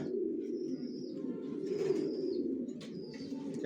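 Young racing pigeons coo in low, continuous throaty rumbles close by, with a few faint higher chirps from other birds over the top.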